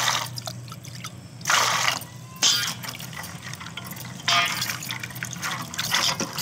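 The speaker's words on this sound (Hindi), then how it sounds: "तो चलिए इसे हम साफ पानी से धो लेते हैं।" Raw peanuts are washed in clean water in a bowl for a home cooking recipe. Bursts of pouring and splashing water alternate with quieter stretches of dripping and sloshing, close to the microphone.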